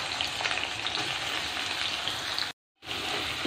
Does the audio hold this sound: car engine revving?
no